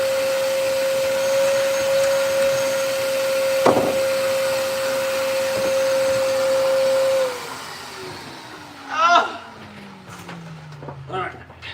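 A vacuum cleaner runs steadily inside a Honda hatchback, a constant loud drone with a sharp knock partway through, then it powers down with a falling whine and fades out as faint handling noises follow.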